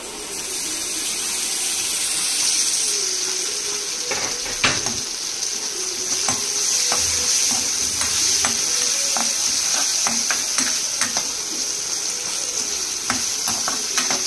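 Tomatoes drop into a hot pan of spiced oil for a mushroom pepper fry and sizzle steadily up close, with scattered clicks and stirring scrapes over the constant frying hiss.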